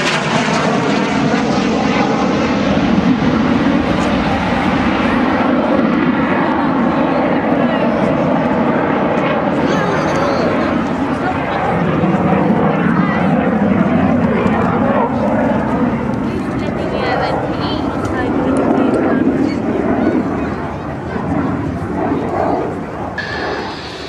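Hawker Hunter jet aircraft flying at the East Fortune airshow, a loud sustained engine roar that swells and fades as it passes, with a commentator's voice talking over it throughout.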